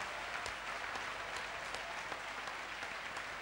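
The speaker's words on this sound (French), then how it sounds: "je vais te demander d'acclamer très fort pour le Saint-Esprit" Church congregation applauding steadily at a worship service, a dense continuous patter of clapping with no break across the moment.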